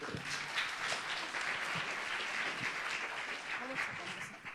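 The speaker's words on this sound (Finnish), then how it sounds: "Ja saa taputtaa, hei." An audience at the opening of a sports council event claps steadily for a few seconds, fairly quiet and even, with some voices underneath.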